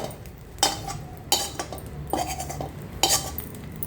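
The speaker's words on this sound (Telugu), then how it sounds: "దీన్ని ఒక ప్లేట్లోకి అయితే తీసేసుకుందాము" Fried egg lifted from a metal pan onto a plate, with four sharp clanks and scrapes of utensil against cookware, close and fairly loud.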